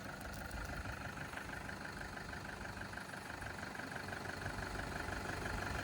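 Car engine running steadily as a beginner driver creeps forward slowly, a continuous low hum and rumble throughout with no clear speech.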